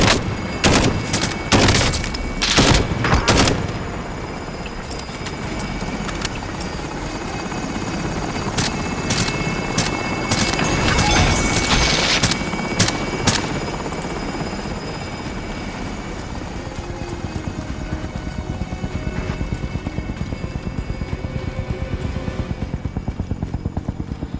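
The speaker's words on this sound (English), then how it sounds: "Helo is in position for your deposit." A military helicopter in Call of Duty: Modern Warfare, its rotor thrumming steadily throughout, opening with several sharp bursts of gunfire and later another cluster of shots, loud and near, with no talking.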